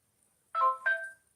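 A phone ringtone sounds indoors, two short melodic electronic tones in quick succession, clear and fairly loud with no talk over them.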